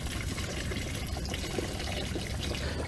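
Pesticide solution is poured steadily into a sprayer tank used for weed control in paddy fields, a continuous close splashing and gurgling liquid stream with no talk.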